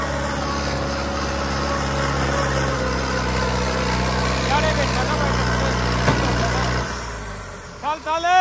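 A New Holland 5630 tractor with a modified, turbocharged engine runs empty, a loud continuous drone heard up close throughout, easing near the end as faint shouts break in.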